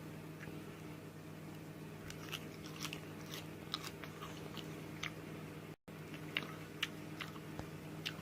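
Raw mizuna leaves are chewed close to the mic, with a series of small crisp crunches at an irregular pace over a faint steady background hum.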